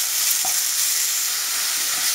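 Grated radish frying in oil with chana dal and curry leaves, a steady close sizzle with faint stirring, no voices.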